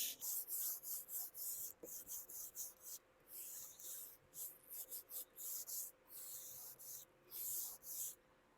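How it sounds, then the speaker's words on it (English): A worn wood finish is sanded by hand with 220 grit sandpaper. Close, rhythmic back-and-forth rasping strokes repeat in quick bursts with brief pauses between them. "I'm going to sand the places where it's seriously bad. This is 220 grit."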